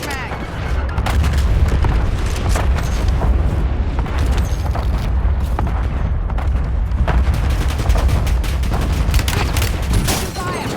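Heavy gunfire and explosions in the Black Ops 7 video game, with dense booms and rapid shots crowding a loud, busy battle scene and game voice lines heard between the blasts.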